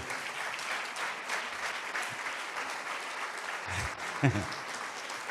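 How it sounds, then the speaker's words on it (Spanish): Audience applause in a church congregation, steady clapping throughout with some voices mixed in and a louder burst near the end. "Denle un fuerte aplauso a estos hermanos,"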